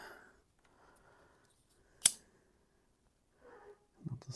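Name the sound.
cutting off bits with scissors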